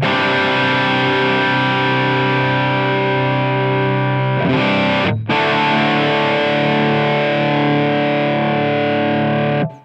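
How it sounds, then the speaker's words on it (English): A heavily distorted electric guitar, played through a Line 6 Helix amp model with the drive turned up and the wah off, rings out in two sustained chords separated by a brief cutoff. "so there's a bit of a distorted sound"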